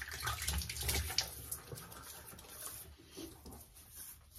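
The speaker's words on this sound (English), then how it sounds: "You wet the face." Water splashes and trickles from a running tap or sink as a face is wetted before a shave with hard soap, close by and moderately loud, with no speech.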